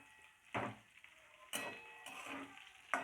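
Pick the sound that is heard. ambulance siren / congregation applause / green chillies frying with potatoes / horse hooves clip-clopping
green chillies frying with potatoes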